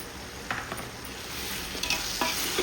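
Mint leaves sauté in a pan with tomatoes for a Sunday biryani, sizzling softly while a utensil stirs with a few clinks.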